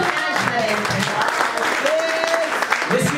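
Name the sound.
congregation applauding and acclaiming Jesus Christ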